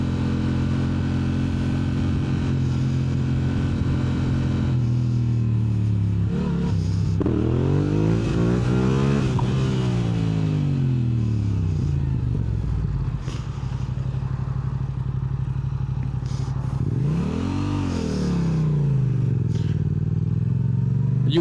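A Yamaha R7 motorcycle being ridden, its engine repeatedly revving up and dropping back in rising and falling sweeps, loud and close over steady wind rush, including a hard second-gear pull.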